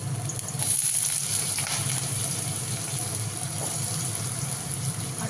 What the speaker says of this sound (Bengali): এখানে মাছের ঝোলের জন্য মাছ ভাজাটা করছি